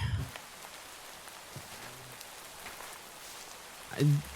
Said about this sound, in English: I'm pretty sure the sound effect for the rain sounded so much better in this